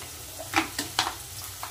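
Shrimp fry in a pan with onion and taro stolons, a soft continuous sizzle broken by several sharp spatula scrapes and clatters, fairly quiet with no talk.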